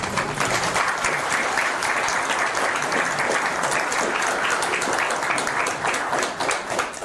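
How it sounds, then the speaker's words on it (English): An audience claps at the end of a talk, a dense, even roar of applause from many hands that carries on steadily for about seven seconds and tapers slightly at the close. "We don't always stay for the clapping, but we did this time."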